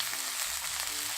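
A cabbage jeon pancake fries in a generous pool of oil, giving a steady, close crackling sizzle with no voices.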